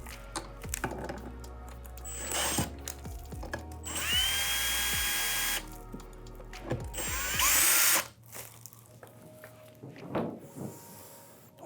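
A power drill tightens bolts while an office chair is being assembled, with two sustained whirring bursts near the middle and scattered clicks and handling knocks from parts and tools around them.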